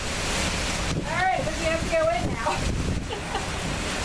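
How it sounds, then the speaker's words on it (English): Strong gusting wind during a New Mexico lightning storm roars steadily into the microphone throughout, while people talk close by. "I cannot believe how windy."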